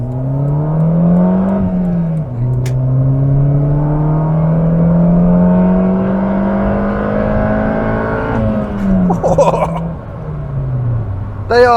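A Ford Puma 1.7 car accelerating hard on an open road, its engine note rising steadily through the gears with a brief dip at a gear change, loud and close throughout, with a rougher burst near the end.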